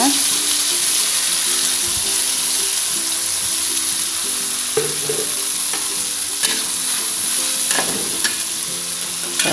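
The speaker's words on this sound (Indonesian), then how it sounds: "Aduk-aduk dulu bumbu sampai matang ya" Blended spice paste sizzles and crackles steadily in hot oil as it is stir-fried for semur jengkol, with a spoon scraping the pan now and then throughout.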